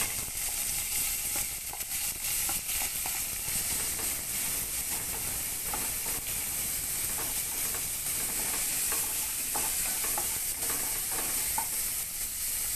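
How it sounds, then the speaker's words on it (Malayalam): Beans being stir-fried in a pan, a steady loud sizzle with scraping stir noises running throughout, no talking. "ഒന്ന് മൂത്ത് വരുമ്പം നമുക്ക് ബീൻസ് ഇട്ട് കൊടുക്കാം."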